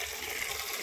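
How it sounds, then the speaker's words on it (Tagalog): Water gushes steadily into a container outdoors while it is being filled, a close, loud, continuous pouring rush with no speech. "Lagyan natin yung tubig."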